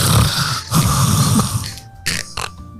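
A person makes snoring, snorting breaths imitating a flat-faced dog's snore, rough and nasal, in a few uneven bursts with short gaps between them.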